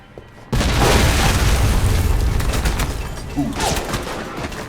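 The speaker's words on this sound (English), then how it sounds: "I'm reading a C4 explosion in your area." A C4 explosion in the video game Alpha Protocol: a loud, sudden boom that bursts in after a quiet start and rumbles on, with a second swell of blast noise near the end.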